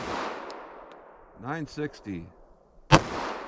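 A single sharp, loud report from a Glock pistol firing a .45 ACP Winchester Silvertip round, heard near the end after a brief stretch of someone speaking.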